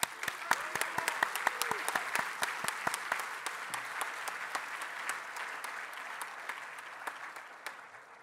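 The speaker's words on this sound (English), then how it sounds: "Let's please give them all a warm round of applause." Sustained audience applause at a conference closing ceremony, a dense crowd of clapping hands that holds steady for several seconds before thinning out toward the end.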